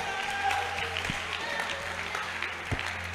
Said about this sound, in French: Waouh, acclamons pour elle.